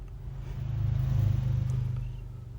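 A brushless X43 RC rock crawler creeping slowly over rocks, its motor giving a low, close hum that swells and fades gently as it crawls.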